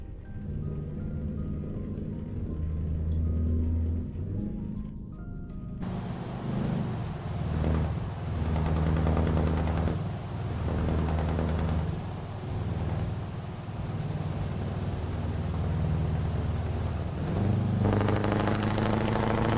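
Deep, steady diesel truck engine drone in Euro Truck Simulator 2, a continuous low rumble with rising and falling revs and a brighter higher-pitched layer joining near the end.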